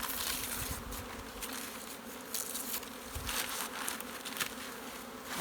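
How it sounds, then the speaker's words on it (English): Honey bees buzz inside a full hive box, a dense, continuous droning hum with individual bees flitting close by, heard alone without voices. "And this looks like a pretty full box of bees here."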